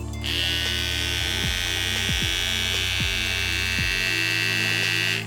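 A 5-star hair trimmer's electric motor runs steadily with a loud, constant buzzing hum, with a few faint clicks spaced through the hold and no talking.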